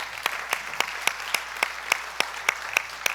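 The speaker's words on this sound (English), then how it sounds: "give him a big hand" A jazz festival audience gives a warm hand to the new director of music: about a dozen sharp, evenly spaced claps ring out over a quiet hall, close and fairly faint.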